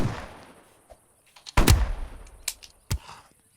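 Gunfire in a first-person video game, a few loud sharp shots and bursts among quiet stretches, followed by scattered single pops, with no talking.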